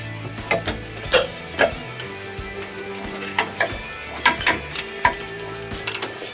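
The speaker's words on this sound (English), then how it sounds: "I'll finish them with the ratchet." A hand ratchet works loose the bolts on a car's disc brake caliper, a series of sharp, close clicks in irregular bursts, with faint background hum.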